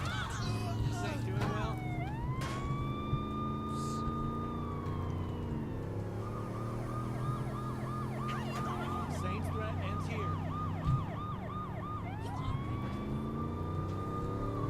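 A police car siren in Saints Row The Third cycles loudly through rising and falling wails and rapid yelp bursts, close and continuous, with game engine noise underneath.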